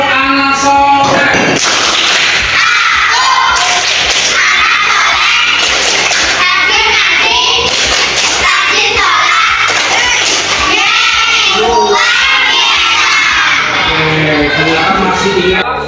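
Children perform the rhythmic 'tepuk anak soleh' chant in a classroom lesson, with loud group voices chanting together and sharp claps punctuating the chant, all close and energetic.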